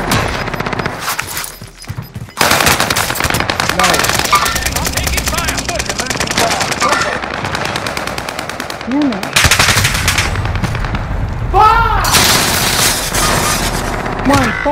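In Call of Duty: Modern Warfare, loud bursts of rapid machine gun fire break out repeatedly along with scattered single shots. Voices shout and talk beneath the gunfire.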